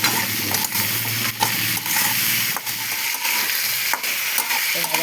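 Snake gourd pieces frying with salt and turmeric in a pan and stirred now and then, giving a loud continuous sizzle broken by scraping strokes of a spatula and short bursts of hiss.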